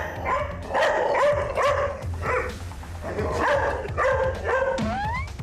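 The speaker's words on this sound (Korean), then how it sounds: "유독 한 제작진을 향해 앞에서 집요하게 짖어대는 녀석" A Jindo dog barks persistently and aggressively at a person, a close run of loud, repeated barks in clusters with a brief whine near the end, no talk.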